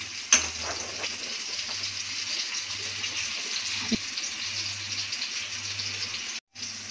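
Fish frying in oil over medium heat in a kadhai, with a steady close sizzle and crackle throughout and a low hum under it, and one brief gap near the end.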